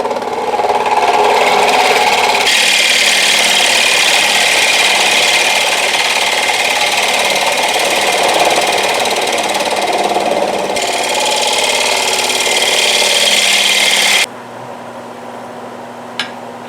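A bowl gouge cuts across the bottom of a cedar bowl spinning on a lathe, a loud, steady hiss of shaving with shifts in tone as the cut changes, before dropping to the quieter hum of the lathe.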